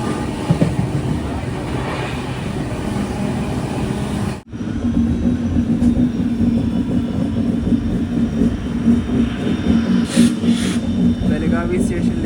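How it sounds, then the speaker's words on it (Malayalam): Poorna Express pulls into Belagavi station, a continuous loud rumble with a steady hum that cuts out briefly for a moment before resuming, with a few higher bursts near the end. "ബലഗാവി സ്റ്റേഷനിലേക്ക് ട്രെയിൻ എത്തുകയാണ്"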